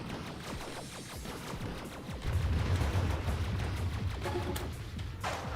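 Autocannon firing in a video game, rapid rattling shots forming a dense, continuous barrage that grows heavier partway through.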